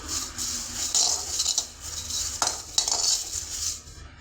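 Roasted thuthuvalai leaves scraped and tipped from one cooking vessel into another, a steady scratchy rustle broken by several sharp metallic scrapes and clinks of utensil on pan, close and alone.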